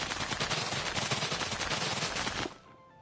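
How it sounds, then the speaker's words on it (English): Rapid machine gun fire in the video game Minecraft, a loud, dense, unbroken burst lasting about two and a half seconds before stopping abruptly into near silence. "Machine gun destruction."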